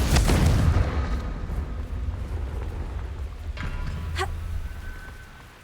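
A Confringo explosion spell bursts in Hogwarts Legacy with a deep boom at the start, then a rumbling, crackling tail that fades over several seconds.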